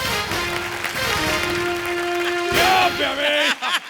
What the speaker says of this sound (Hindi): तो जोरदार तालियां फास्टेस्ट फिंगर फर्स्ट के लिए